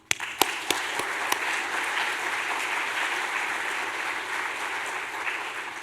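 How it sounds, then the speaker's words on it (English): Conference audience at the Strings 2026 meeting in Shanghai applauds the organizers. A few sharp early claps swell into sustained, even applause from a large crowd that carries on throughout. "Let's give them a big round of applause."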